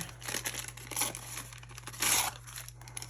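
Collage paper crinkling as it is wrapped around a piece, quiet papery rustles close by with a brighter crackle near the end, under a low steady hum.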